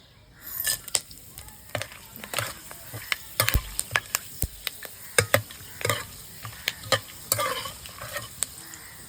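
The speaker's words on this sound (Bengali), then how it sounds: "এবার তেলে কিছু গোটা মশলা ফোড়ন দেবো মশলার মধ্যে আছে তেজপাতা গোলমরিচ এলাচ লবঙ্গ দারচিনি" Whole spices (bay leaf, black pepper, cardamom, clove and cinnamon) crackle in hot oil, giving a close, steady run of sharp, irregular pops and snaps over a low sizzle, with no voices.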